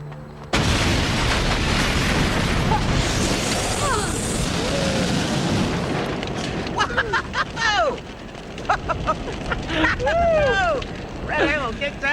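A big, loud explosion from red ammo booms suddenly in a TV action series, then rumbles on as people talk over the lingering blast noise.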